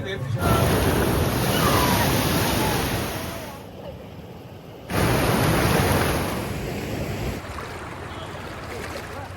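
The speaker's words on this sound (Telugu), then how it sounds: "ఈ చాపరాయి వాటర్ ఫాల్స్లో చాలామంది స్నానం చేస్తుంటారు" Steady roar of the Chaparai waterfalls, a broad rushing wash of falling water that stays loud and close throughout, briefly dropping and swelling again before easing slightly near the end.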